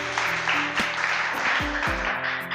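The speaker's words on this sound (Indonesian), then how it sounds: "tepuk tangan dulu untuk Kayla." A classroom of students applauds a classmate during a school volleyball lesson, a short burst of clapping lasting a couple of seconds, close and moderately loud, with a voice heard faintly underneath.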